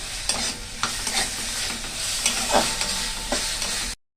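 Spices including cumin powder and a little sugar are stir-fried in a pan, with repeated scraping strokes of a spoon over a light, steady sizzle that stops abruptly at the end.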